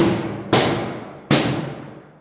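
A firefighter sounds an outward-swinging door during forcible entry training, striking it with a tool: two sharp, loud thuds about a second apart, each ringing off and decaying slowly.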